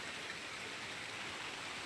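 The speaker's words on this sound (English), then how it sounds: "Do you guys hear the rain? It is pouring." Heavy pouring rain hisses in a dense, steady wash with no gaps, moderately loud and even throughout, no voices over it.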